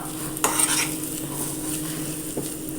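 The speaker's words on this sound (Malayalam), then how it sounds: "നന്നായി മിക്സ് ചെയ്തെടുക്കുക" A spoon scrapes and stirs spinach cutlet masala in a pan over a light sizzle, with a couple of sharper clinks against the metal. The sound is close and moderately loud.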